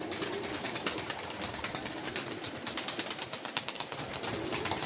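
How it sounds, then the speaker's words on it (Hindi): A large flock of about 70 to 80 pigeons, old and new birds mixed, let out from a rooftop loft in mild sunny weather; steady busy outdoor ambience with scattered coos and flutters, no talk. "परिंदे बाहर निकाल रहे हैं, क्योंकि आज मौसम अच्छा है"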